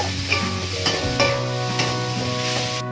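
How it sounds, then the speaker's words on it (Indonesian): Chopped ingredients for a sambal matah dish briefly stir-fried in a hot pan, a loud continuous sizzle with repeated stirring scrapes and clatter, no voices. "bahan-bahan yang tadi udah dipotong-potong kita goreng dulu sebentar ya"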